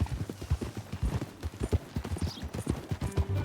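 Horse hooves clip-clop in a video game, a quick continuous trotting beat with sharp, close strikes and a faint whinny-like tone near the end.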